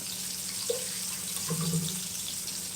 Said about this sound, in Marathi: ते वॉश बेसिन खाली मी तांदूळ धुवून आणते